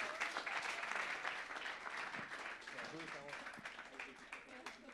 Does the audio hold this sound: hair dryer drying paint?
no